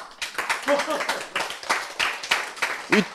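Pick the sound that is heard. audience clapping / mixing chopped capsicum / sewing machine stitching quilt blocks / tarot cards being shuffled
audience clapping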